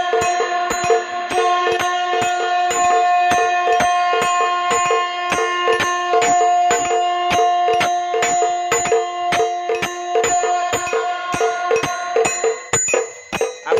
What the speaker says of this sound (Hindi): देख सकते हो कि दोस्तों कैसे इसमें शंख बज रहा है।